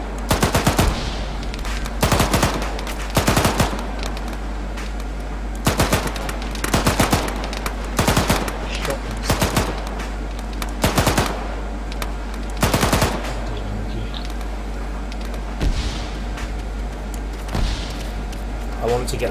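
Loud bursts of machine gun fire in a video game repeat in short rapid volleys, separated by brief pauses and set against a constant low hum, with someone talking in between.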